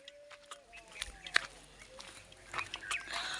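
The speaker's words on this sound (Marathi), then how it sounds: "फक्त पक्षी किती सुंदर आवाज आला बघा" Birds calling in the Shoolpani forest along the Narmada, scattered short chirps and whistles at moderate distance over quiet background, with a few soft footsteps or rustles between calls.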